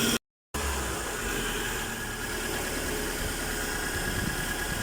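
A carbureted 4G13 engine in a Mitsubishi Lancer runs steadily after a tune-up, a continuous close idle with a rough low rumble, preceded by a brief silent gap.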